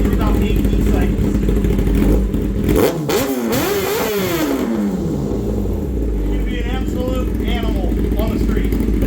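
Tuned Kawasaki ZX10RR motorcycle engine idling with a choppy lope, then one sharp rev that rises and falls before settling back to a rumbling idle, loud and close with a voice talking briefly.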